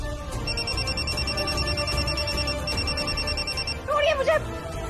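A telephone rings in steady repeated bursts, close and fairly loud, while people talk over it.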